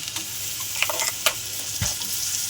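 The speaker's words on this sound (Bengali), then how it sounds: "আদা রসুন টমেটোর পেস্ট দিয়ে দিলাম" Ginger, garlic and tomato paste hits hot oil in a pan while cooking an egg and potato curry, giving a steady close sizzle and crackle with a few stirring clicks, and no talking.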